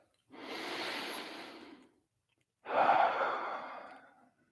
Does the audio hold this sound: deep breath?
yes